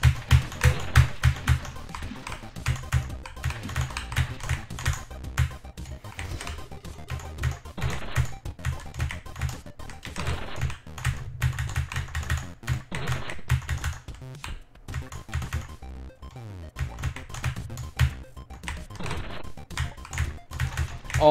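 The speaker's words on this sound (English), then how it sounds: "Time to slam the keyboard." A computer keyboard is hammered hard and fast in a continuous barrage of loud, close key strikes, sounding nearly nonstop with only a momentary lull.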